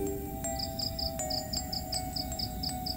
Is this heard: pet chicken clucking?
no